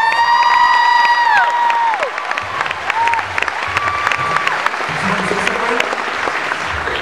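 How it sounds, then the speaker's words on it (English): Concert crowd applauding and cheering for an a cappella group's bass singer, loud sustained clapping with whoops and shouts, opening over a fading sung chord. "Give him a round of applause."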